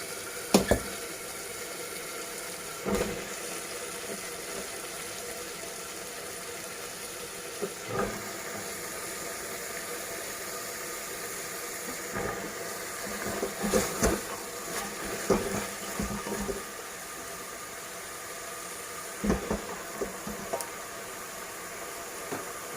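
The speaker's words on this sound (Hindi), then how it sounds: "अब मैंने इसमें लौकी डाल दी है, उसको मैं अच्छे से मिक्स करूंगी।" Bottle gourd stirred into sizzling tomato masala produces a low steady hiss with occasional scraping and clinking from a spoon against the pot, fairly quiet and without talk.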